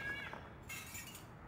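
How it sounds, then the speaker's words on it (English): A cat meows in the video game The Longest Journey, a short tonal call in the first moments over a steady low background hum, fairly faint. "Kitty cat?"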